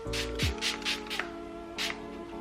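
Several short hissing spritzes of makeup setting spray from a spray bottle, close by, in quick bursts with brief pauses between, over a faint background hum.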